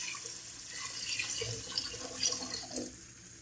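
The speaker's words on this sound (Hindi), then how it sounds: "अब हम इसमें पानी ऐड करेंगे।" Water streams from a container into a biryani pot holding fried tomatoes and rice, a steady close pour with a splashing, gurgling texture that continues throughout.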